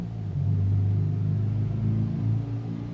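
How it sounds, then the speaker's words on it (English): A car going by outdoors: low, rumbling engine noise swells and lingers for a few seconds before easing slightly, with no voices. "I'm sorry, the car is going by."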